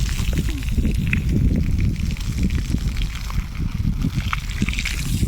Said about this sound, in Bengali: এই পাইপ যে কত জায়গায় লিক হয়েছে জল বেরোচ্ছে